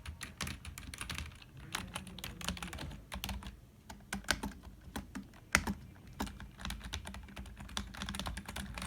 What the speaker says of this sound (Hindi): अभी टाइपिंग टेस्ट करना है, स्पीड टाइपिंग मतलब इसका आवाज़ और इसका सेंसिटिविटी